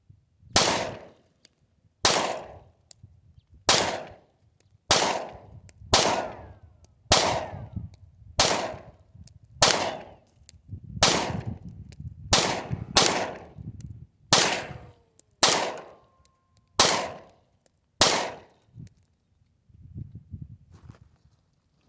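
A Taurus G2C pistol fires a full 15-round Pro-Mag magazine at a range, with about fourteen sharp, loud shots spaced one to two seconds apart and a short gap before the last ones.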